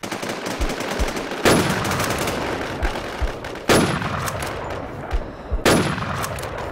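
Gunfire in the Infestation video game, loud rapid bursts of automatic fire repeating in long volleys with sharp onsets about every two seconds, dense and close, with no talk.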